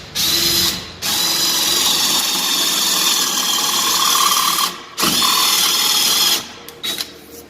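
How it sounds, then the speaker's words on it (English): A power drill bores a speed bit down into wood while a rake and mortise are cut, with a loud steady whine running for several seconds, a brief stop, then another sustained run before the bit winds down and halts. "drill down in to about where the collar on the speed bit stops"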